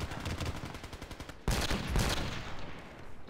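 SKS rifle fire in the game Battlefield Play4Free comes as a fast string of close, loud shots, followed by a heavier burst and a rumbling tail.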